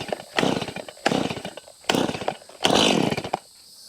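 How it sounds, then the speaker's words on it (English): A small Stihl MS-170 chainsaw runs close by in repeated loud bursts, the engine revving up and dropping back to idle four times in a few seconds, as it cuts on a rural property. "Perfect job for my little Stihl MS-170."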